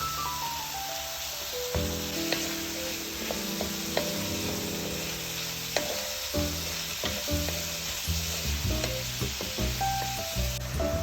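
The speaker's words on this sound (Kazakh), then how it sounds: "Тауықтың етін салып 7-8 минут қуырамыз." Chicken meat frying in a pan, with a steady close sizzle under light music, occasional knocks and scrapes of stirring scattered throughout.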